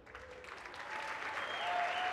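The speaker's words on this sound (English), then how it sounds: "Polite claps, not uproarious applause." Light, scattered clapping from a small group, modest and polite, swelling slightly before it fades.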